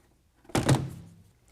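A canister lid for a Roll-N-Lock M-Series XT tonneau cover on a 2020 Jeep Gladiator is set onto its canister, giving one solid close thunk followed by a brief fading rattle.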